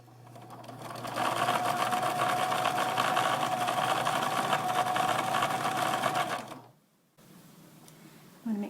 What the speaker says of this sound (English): And my sewing machine's really loud.